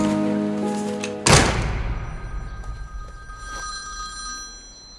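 A telephone rings in a film scene with a steady, tonal bell that cuts off abruptly with a hard thunk as the handset is picked up, followed by a quiet, fading room.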